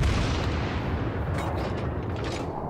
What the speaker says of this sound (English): He's firing at us.